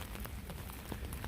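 Rain falls steadily in Philadelphia during an outdoor live stream, giving a dense, even hiss of drops on the surface with scattered small spatters.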